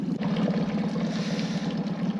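A dinghy's outboard motor, just restarted, idles in the water with a steady low throbbing hum, close and continuous, with no voices.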